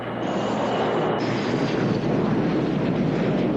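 F-18 jet aircraft at Patuxent River Naval Air Station in Maryland, a steady loud broadband roar of engine noise with wind rush, continuous and unbroken without any voices.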